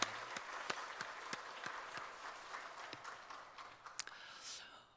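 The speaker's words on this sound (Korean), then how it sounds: "찬양 받으신 주님께 영광의 박수 올립시다." A Korean church congregation at a Sunday worship service gives a brief round of applause, sparse distinct claps standing out over a soft wash of clapping that fades toward the end.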